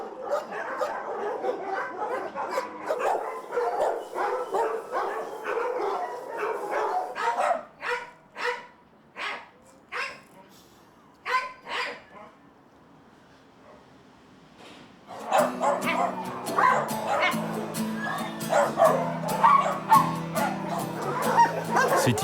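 Many dogs bark, yip and whimper at a large animal shelter in France, dense overlapping barking at first, then sparser single barks, then a loud chorus of barking again.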